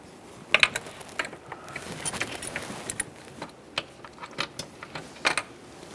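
A ratchet snugs valve cover mounting bolts on a 2.3L four-cylinder Ford Ranger, giving quick bursts of sharp clicking pawl strokes with brief pauses between them, close and fairly quiet.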